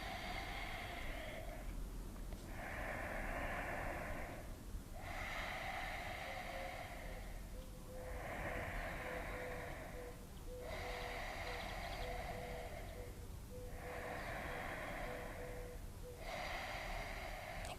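Deep, slow breaths during a yoga breathing exercise, about six even cycles of airy inhales and exhales in a rhythmic pattern, close but soft in a quiet room.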